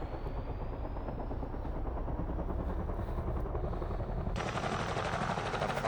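An AS350B helicopter in the X-Plane 12 flight simulator spools up its engine, a loud, steady mechanical roar with dense rotor chop that holds constant and brightens near the end.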